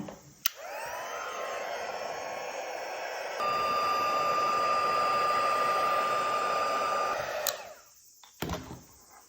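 A heat tool melts embossing powder on a handmade wedding card, blowing with a steady, close whirring hiss for about seven seconds that grows louder partway through, then clicks off.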